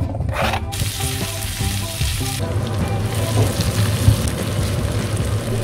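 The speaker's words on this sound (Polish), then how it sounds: "Podsmaż na oleju roślinnym" Sliced onions fry in vegetable oil with a dense, steady sizzle, close and loud, opening with a brief clatter as they hit the pan.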